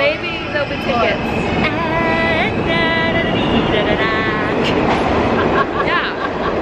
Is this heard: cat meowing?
no